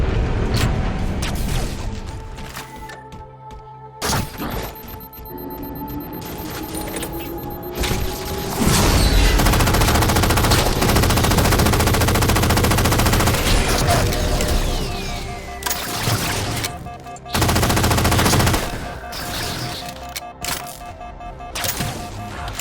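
Gunfire and explosive booms in Halo 4 erupt in dense, loud bursts with mechanical clanks and crashes, intensifying midway and continuing in heavy volleys with brief lulls.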